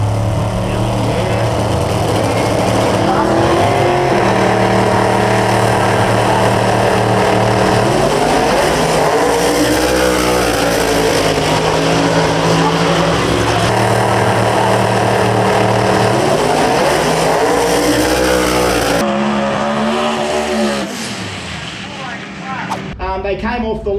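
Drag radial cars with a Noonan Hemi, Liberty transmission and lockup converter launching off the line at a drag strip, loud roaring engines climbing in pitch through gears, with a commentator talking over them.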